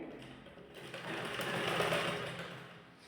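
A sewing machine stitches the folded hem of a ladies' trouser leg in one continuous burst, its whirring motor rising and then easing off. The sound is close but fairly quiet, and no one speaks.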